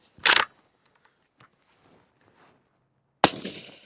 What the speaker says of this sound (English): now we're going to shoot a subsonic blackout to see if it retained any sound suppression qualities to it